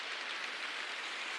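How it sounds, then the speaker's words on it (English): Soft, steady rain texture used as the intro layer of an ambient FL Studio beat, a continuous hiss of fine drops with no voices, even and unbroken throughout. "We've got a little bit of a rain texture for the intro,"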